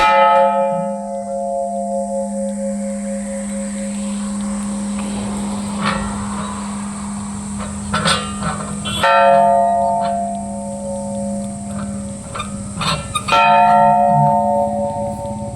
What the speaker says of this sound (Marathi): ही सुरुवात घंटानादाची.